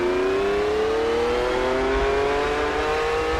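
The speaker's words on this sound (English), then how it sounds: "I'm in a Ferrari 312 Can-Am car for this. We'll get this tour started right now as we leave the pits." A Ferrari 312 Can-Am race car pulls out of the pits in a racing game, its engine droning steadily with a slowly rising pitch as it accelerates, loud and continuous with no talk.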